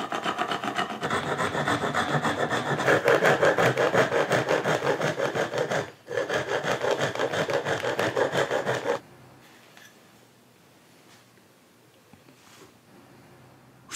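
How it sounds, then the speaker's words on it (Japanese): A long bamboo flute is being reamed inside with a rasp to smooth the nodes, giving a loud, steady back-and-forth scraping in rapid strokes that stops briefly once, then cuts off abruptly to near silence. "このガリ棒というヤスリで削って丸くならしていく"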